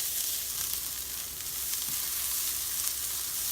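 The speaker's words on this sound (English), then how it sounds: "Let's give it another stir." Spices and white pepper sizzle and fry in a pot while being stirred for a meatball vegetable soup, a steady, close hiss with faint scraping underneath and no talking.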